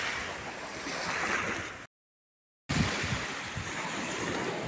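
Sea waves wash onto an Italian beach with a steady close hiss and rumble of surf, mixed with some wind, cut by a brief silent gap before the same surf continues.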